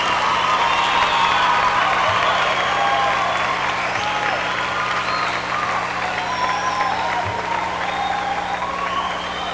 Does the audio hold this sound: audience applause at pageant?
yes